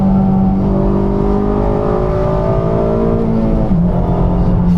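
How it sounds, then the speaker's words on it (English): Engine of a slammed 8th-gen Honda Civic Si with full race exhaust and headers, droning loud and close under load, its tone rising steadily with a brief shift near the end. "And then hearing VTEC crack too."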